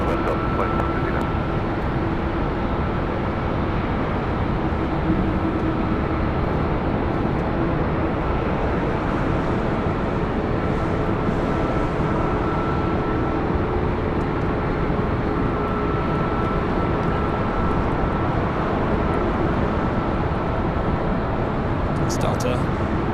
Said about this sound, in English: runway 24 left, quick takeoff.